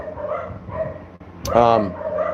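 Dogs bark in a big echoing hallway, muffled and a little distant, with a few yips and whimpers alongside a voice speaking over them.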